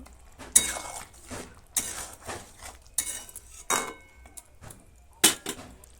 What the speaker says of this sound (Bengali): ধনে পাতা কুচি আরও একবার এটাকে ভালো করে আমি মিশিয়ে নেব